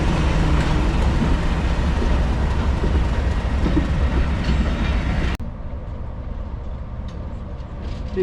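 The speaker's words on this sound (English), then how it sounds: "Here arriving on platform 1 is another one of the guest locomotives for the weekend, 47714, having just arrived back from Norton Fitzwarren." Class 47 diesel locomotive 47714 arrives at platform 1 of a heritage railway, a loud steady rumble of engine and wheels that abruptly drops to a quieter hum partway through.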